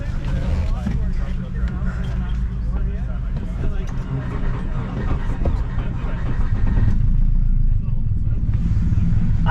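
Subaru Forester engine with rod knock and misfiring, a loud, rough mechanical drone running steadily nearby with uneven pulsing, under voices talking.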